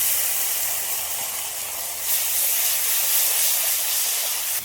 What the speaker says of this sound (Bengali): এবার আদা আর কাঁচা লঙ্কা বাটাটা দিই।